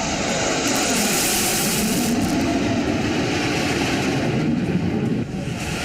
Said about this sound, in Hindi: आसमान में लड़ाकू विमानों की ये गर्जना सरहद पार दुश्मन भी सुन रहा होगा